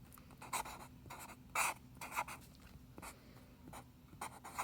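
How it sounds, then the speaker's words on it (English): A big marker scratches across paper in quick strokes of varying length, separated by brief pauses, close and soft against a faint background hum. "I'm writing with a big marker and trying to hold my phone for the video"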